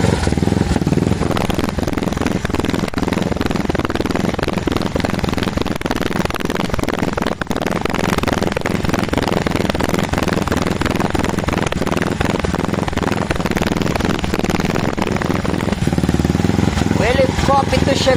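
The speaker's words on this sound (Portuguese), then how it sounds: "Olha o motor do protótipo como que está" Engine of a prototype vehicle with a newly replaced clutch runs continuously, a loud, close, steady rumble with someone talking over it.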